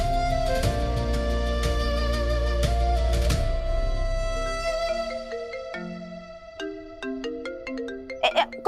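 Mobile phone ringtone plays a bright melodic tune, loud and close, then continues more sparsely as the ringing carries on.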